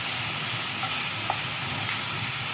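Onion frying in a pan while preparing a spaghetti lunch gives a steady, close sizzle that holds evenly throughout, with a couple of faint clicks and no voices.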